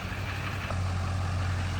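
A Duramax diesel pickup pulls a loaded gooseneck trailer carrying a Kubota tractor, its engine a close, droning low hum that settles into a steady, strong tone partway through.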